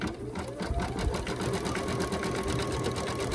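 An embroidery machine with a 4x4 hoop runs a continuous outline stitch around a catnip-filled fabric cat toy, its needle chattering in a fast, steady rhythm at close range.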